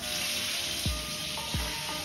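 Food sizzles in a hot pan with lemon sauce, a steady close hiss with a couple of low thumps as it is flipped, no talking.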